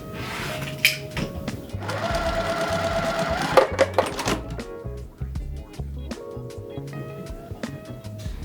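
A sewing machine stitches quilt blocks together in short bursts: a close, rapid mechanical whir that starts and stops several times, with a longer steady run in the middle and small clicks between runs.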